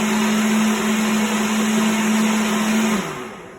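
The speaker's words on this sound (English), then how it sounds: "I'll blend it out for maybe 10 seconds more" A blender mixing a chocolate shake whirs at a steady high-pitched drone for about three seconds, then spins down as the motor is switched off.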